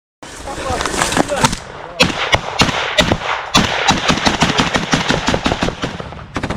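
Dense, loud gunfire crackles in combat as Ukrainian soldiers dismount from armored personnel carriers under fire and advance into woods, rapid overlapping bursts and single shots continuing without pause, with voices faintly mixed in.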